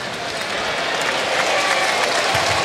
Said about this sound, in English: Nice round of applause for the youngster doing a little floor work here